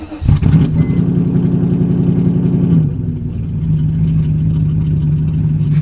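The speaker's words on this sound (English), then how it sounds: "we gotta take the car for a drive because we think the engine's running right with the new exhaust, and we gotta see how this baby sounds." A car running a new aftermarket exhaust revs hard with a rapid pulsing rasp for a few seconds, then drops back to a steady lower drone, loud and close.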